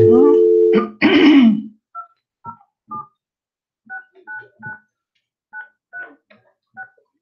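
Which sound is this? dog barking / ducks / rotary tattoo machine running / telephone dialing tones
telephone dialing tones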